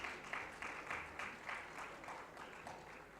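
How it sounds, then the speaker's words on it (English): An audience applauds a panel speaker at a leadership and social entrepreneurship event, steady dense clapping filling the whole stretch at a moderate, slightly distant level. "a huge round of applause for Mr."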